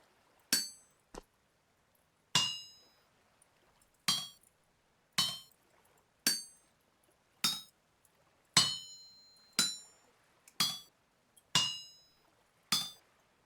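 Metal being hammered while forging a saw blade in a video game: about eleven sharp, ringing clangs struck at a steady, unhurried pace, each one decaying quickly, loud and close with no talking.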